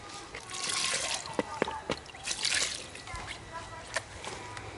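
Water poured from a container into a compost bowl trickles and splashes in uneven bursts, close and fairly quiet, with a few sharper drips and clinks.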